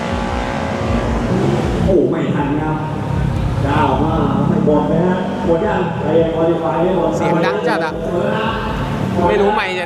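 Loud drag-racing motorcycle engine roaring and revving continuously, with pitch sweeps rising and falling, heard amid crowd chatter and voices throughout at a drag strip event in Thailand.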